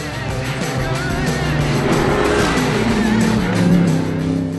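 Porsche GT race car of Dynamic Motorsport, number 54, at the 24 Hours of Spa, its engine note droning steadily with shifting harmonics, loud and close throughout, with other race noise mixed in.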